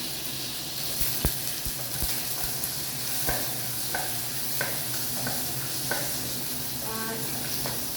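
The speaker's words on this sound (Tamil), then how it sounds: "நல்லா பொரிஞ்சோடனே சின்ன வெங்காயம் போடுங்க, பூண்டும் போட்டுருங்க." Small onions and garlic fry in hot oil with a constant dense sizzle, while a spoon scrapes and stirs in occasional short strokes, close up and without speech.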